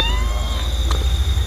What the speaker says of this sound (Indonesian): Ternyata emang beneran kucing guys.